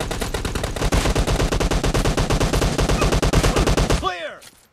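Rapid automatic gunfire in PUBG Mobile Lite during a team deathmatch, a loud sustained stream of evenly spaced shots lasting about four seconds before cutting off abruptly into a brief ringing tail.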